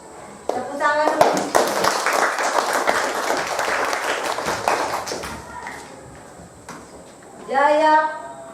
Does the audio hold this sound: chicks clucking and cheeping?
no